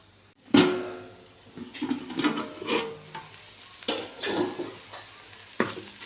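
A spoon stirs drumstick leaf thoran in a pan, making repeated scraping, rustling strokes over a soft sizzle, with a sharp knock at the start.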